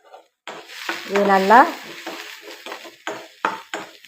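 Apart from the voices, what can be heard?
onions frying in pan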